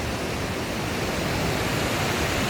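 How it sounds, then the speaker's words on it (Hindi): A waterfall beside a mountain temple at Haripurdhar in Himachal Pradesh, fed from higher up and flowing beneath a flyover, gives a steady, even rush of water that fills the scene with no voices. "इसके नीचे भी झरना है और इसके पीछे भी झरना है"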